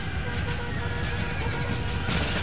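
A horse neighs amid the dense, roaring din of a cavalry battle in Napoleon: Total War, half buried in the loud, continuous clash.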